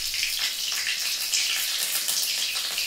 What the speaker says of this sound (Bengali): তেলটা গরম হয়ে গেছে, আমি একটু ফোড়নের জন্য জিরে আর লঙ্কা দিলাম